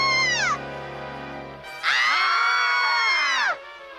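A cartoon girl lets out a loud, sustained scream during a horror movie, a shrill wail of about two seconds that follows a shorter rising cry, with no talk over it.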